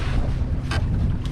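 A wind gust buffets a Catalina 22 sailboat on open water, a loud, close rush of wind noise over the microphone with a brief flutter in the middle.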